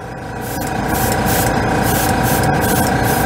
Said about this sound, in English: Oh, it really likes this airbrush.